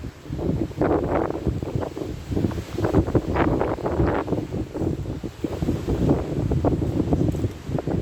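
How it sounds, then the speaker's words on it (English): Strong gusts of wind buffet the microphone outdoors on a rainy walk, a loud, roaring, uneven rush that rises and falls throughout with no talking. "you hear that wind? That is some strong wind."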